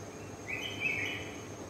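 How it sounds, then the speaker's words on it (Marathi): Recorded bulbul call played back at an exhibition, a short high chirping phrase rising over steady room hum, moderately clear and with no talk over it. "बुलबुलचा आवाज ऐकवणार आहोत।"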